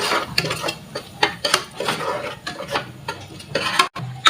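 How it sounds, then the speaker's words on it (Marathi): Coconut and whole-spice masala paste being mixed in a pan for kaleji bhaji, a spoon clanking and scraping against the metal in uneven strokes, close and fairly loud with no talk. "ते पण मस्त मम्मी छान मिक्स करून घेते."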